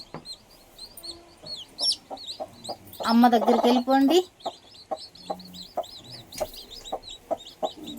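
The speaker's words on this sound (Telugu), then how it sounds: "బుజ్జి బుజ్జి కోడి పిల్లలు ఎంత క్యూట్గా ఉంటాయో కదా" Newly hatched chicks chirp constantly near the mother hen, with rapid high peeps throughout and a louder clucking burst from the hen partway through. A voice speaks briefly.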